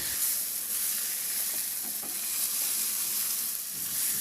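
Pork belly, garlic and tomato fry in a hot pan, giving a steady, dense sizzle with faint scraping as the mixture is stirred, continuous throughout with no talking.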